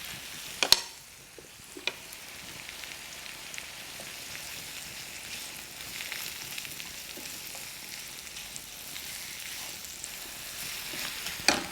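Oyster mushrooms fry in butter in a pan with a steady soft sizzle and crackle, with occasional stirring clicks and scrapes, close and without talk.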